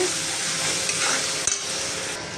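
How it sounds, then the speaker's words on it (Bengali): Fish pieces with ground spices, salt and turmeric being stirred in a hot pan, giving a dense continuous sizzle up close, with a single brief knock of the utensil midway and no talking. "হলুদ দিয়ে হালকা আমি নাড়াচাড়া করে নেব"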